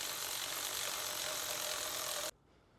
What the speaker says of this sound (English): Now time to tighten down the battery tray, just like this.